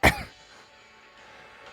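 One sharp, close cough at the start, then near silence with faint background hum.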